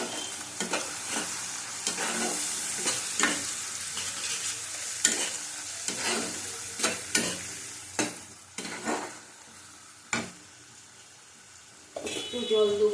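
A soybean curry with chilli powder and turmeric sizzles in a pan while a spoon scrapes and stirs it in repeated sharp strokes, a soft frying hiss running underneath throughout.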